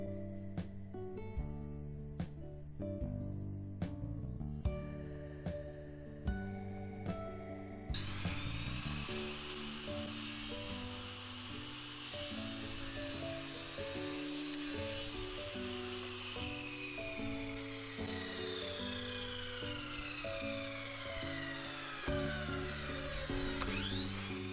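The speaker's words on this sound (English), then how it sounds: "I cut the miters on the miter saw" A miter saw cuts jarrah wood sides for a box: first a series of short, separate clunks and cutting bursts, then a sustained high whining saw note that slowly falls in pitch as the blade spins down, fairly quiet overall.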